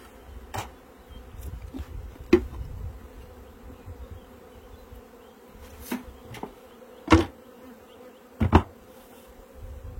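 Steady buzzing of many bees fills the air around a hive, with occasional louder passes as individual insects fly close by.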